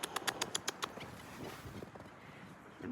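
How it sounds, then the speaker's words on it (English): Small birds chirping around a winter feeding station on a snowy trail, a quick run of bright repeated chirps at first that fades into crunching footsteps and outdoor noise. "A bunch of little birds here"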